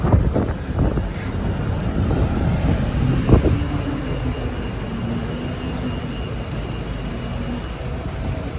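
Strong wind roars and buffets continuously in Oxford city centre, a broad rumbling rush with a few brief knocks early on, no voices.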